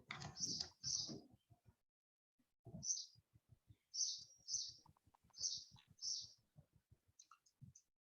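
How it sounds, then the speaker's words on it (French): Bright, high-pitched bird chirps sound outdoors in spring, coming in short paired bursts every second or so. Soft low clicks and faint movement run underneath, and the calls come through clearly from a moderate distance. "Vous entendez des oiseaux?"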